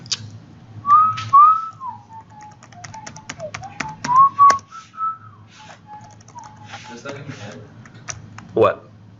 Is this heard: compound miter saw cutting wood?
no